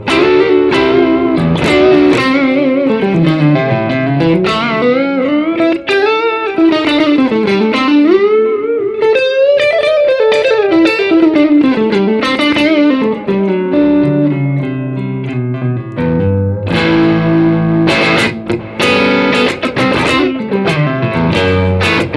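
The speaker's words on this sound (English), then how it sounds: "Moving on now to my crunch sort of tone." Electric guitar with crunchy overdrive through a brown amp, loud sliding bends and wavering lead lines followed by chugging chords, continuous and close with no speech.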